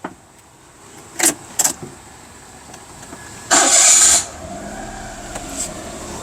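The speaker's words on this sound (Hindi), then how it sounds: "अब हम गाड़ी को स्टार्ट कर लेते हैं।" A Daihatsu Terios Kid is started up: a couple of short clicks and rattles come first, then a loud burst of starter cranking lasting under a second, and after it a low, steady idle hum continues, with no talking.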